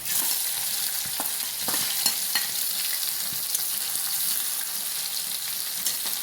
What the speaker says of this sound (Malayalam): കടുക് നന്നായിട്ട് കൊത്തി വരുന്നുണ്ട്